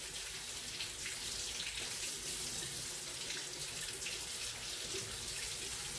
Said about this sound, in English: the fresh water, after you give it a baking soda bath, is going to rinse away all of that residue